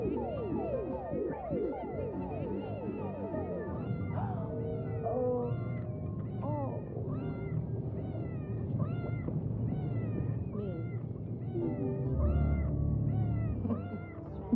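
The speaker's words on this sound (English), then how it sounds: "every time you don't necessarily think about the cat, there's meowing happening, so you know that there's a cat around." A cat meows over and over in a film soundtrack, with clear, close, repeated rising-and-falling cries over a low background bed and almost no talk.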